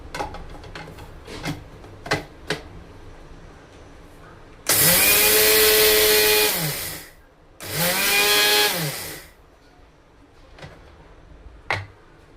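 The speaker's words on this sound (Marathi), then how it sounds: "तर आता मिक्सरला वाटून घेऊया हे आपण तांदूळ।" A kitchen mixer grinder grinds dried rice for mango phirni in two loud bursts, a long one and a shorter one with a brief pause between them, framed by faint clicks and taps.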